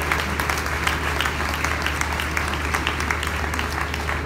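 A crowd at a tramway line inauguration applauds the project teams and companies, a steady, fairly close patter of many hands clapping continuously throughout, with a faint murmur beneath.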